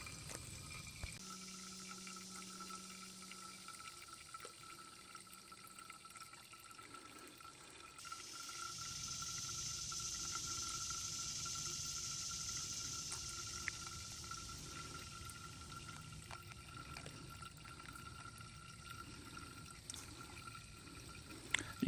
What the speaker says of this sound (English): that's when our water should be finished dripping